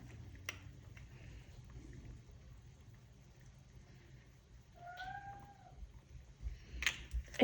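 A house cat meows softly twice in a quiet room during homemade soap making, brief rising-falling calls against faint background clatter, with a louder knock at the very end.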